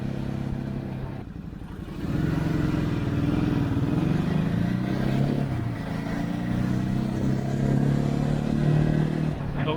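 A Ducati Hyper Motard 950 RVE motorcycle ridden at a slower pace, its engine a steady low drone that swells after a brief quieter start and holds with slight rises, with wind noise over it.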